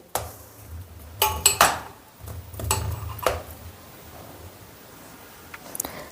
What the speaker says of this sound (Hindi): तो यहाँ पे चम्मच की सहायता से मैंने इसमें छोटे छोटे छेद कर दिए